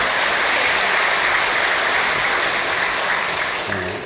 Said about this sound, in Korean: 우리 홍준표 시장님 큰 박수 한번 부탁드리겠습니다